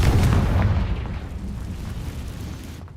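A booming explosion from the Confringo fire spell in the Hogwarts Legacy video game, a loud blast at the start that rumbles on with a long decaying roar.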